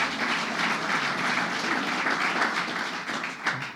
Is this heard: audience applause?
yes